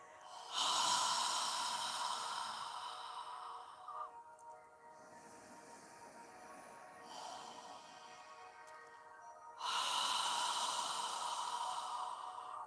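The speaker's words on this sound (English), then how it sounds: "When you inhale, try and fill your lungs completely, and on the exhale, squeeze out all of the air." Slow, deep breaths during a yoga session, a long audible inhale-exhale near the start followed by another after a quiet stretch, close and breathy with no talking.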